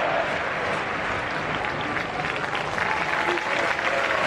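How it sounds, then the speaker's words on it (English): A football stadium crowd at Anfield during a Liverpool charity match applauds in a dense, sustained wash of clapping and crowd noise, with a commentator's voice faintly under it. "the Anfield crowd is now singing the name of Luis Suarez, who turns and applauds them"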